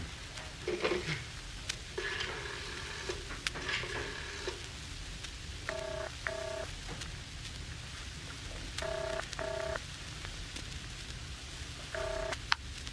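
A house telephone being dialed: several short bursts of touch-tone beeps, clustered in pairs and threes and spread across the clip, over a steady hiss of background noise.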